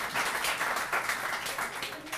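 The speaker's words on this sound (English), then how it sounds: "round of applause for Jim" Audience applause at a free music performance night honoring a longtime collaborator: a short, steady burst of clapping with loud, even density and no voices over it.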